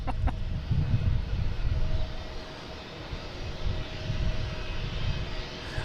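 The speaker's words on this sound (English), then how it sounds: "We got a new JetBlue here." A JetBlue airliner at Boston Logan International Airport gives off a steady, moderately loud engine rumble and whine that holds through the whole stretch, with a faint chicken-like cluck near the start and no talk.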